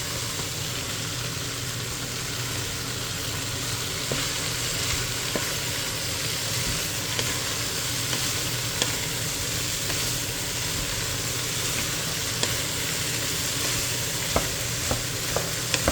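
Baguio beans and ground pork sautéing in a pan for adobo, giving a steady close sizzle and frying hiss throughout with occasional light stirring clicks and scrapes, no talking.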